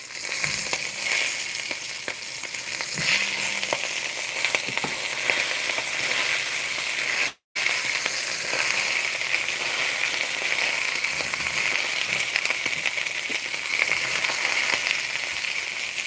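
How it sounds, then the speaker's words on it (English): Meat searing in a hot pan, a steady loud sizzle and crackle that runs throughout, briefly cut off once midway. "since it's searing now"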